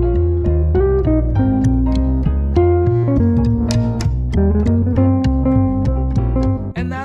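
Guitar works through the B section of a jazz tune with minor triads following the chord changes downward, giving rhythmic plucked chords and bass notes at an even volume, close-miked and without speech.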